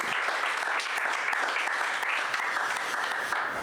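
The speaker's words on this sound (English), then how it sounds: "So give yourselves a round of applause again, and thank you so much." An audience at a comedy show claps continuously, a dense and steady round of applause that holds at the same level from start to finish with no talk over it.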